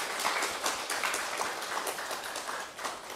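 A church congregation at a Sunday service claps to encourage departing missionaries, the applause fairly faint and distant, with individual claps standing out in an uneven patter.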